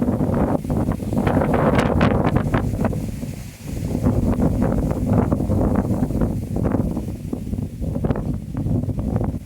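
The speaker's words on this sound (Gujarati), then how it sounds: "ફૂલ ફાસ્ટ હવા આવે છે" Strong, gusty wind blows hard through a village during a monsoon storm, roaring continuously into the microphone with buffeting surges and rustling, loud and close throughout.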